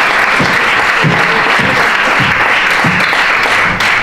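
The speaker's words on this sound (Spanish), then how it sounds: "Un fuerte aplauso para ella." Audience applause at a women's forum as the mayor of Ciudad Real is welcomed, a dense, loud, continuous wash of clapping from a large crowd.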